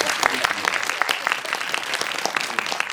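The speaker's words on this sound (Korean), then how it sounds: "저희 축하의 박수 한번 보내드립니다." An audience at a film screening Q&A bursts into celebratory applause for a director, a dense, steady wash of many hands clapping close by for the whole stretch, with a voice faintly beneath it.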